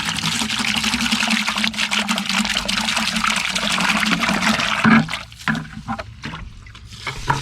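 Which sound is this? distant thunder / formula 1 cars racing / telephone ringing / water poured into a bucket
water poured into a bucket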